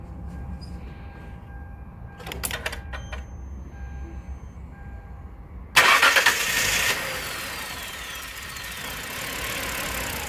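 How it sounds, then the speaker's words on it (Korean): A few faint clicks, then a car engine cranks and fires with a loud burst, revs briefly and settles into a steady idle, close by. "자, 다시 잠가갖고 시동을 한번 걸어보겠습니다"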